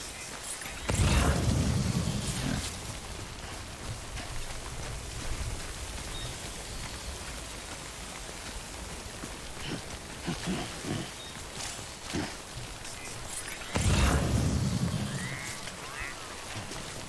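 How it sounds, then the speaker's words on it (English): Rain falls steadily in the Death Stranding video game, a broad soft hiss running through the whole stretch, with two loud rushing bursts near the start and end and occasional faint thuds. "let's wait out the rain over here."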